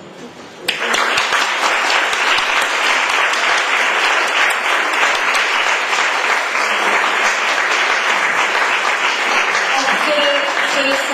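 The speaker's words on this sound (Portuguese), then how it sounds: "isto aqui houve um aplauso muito grande" A class applauds during a videoconference: after a brief quiet start, loud, dense clapping from a whole group of students bursts in and continues steadily for about ten seconds, heard through a conference audio link.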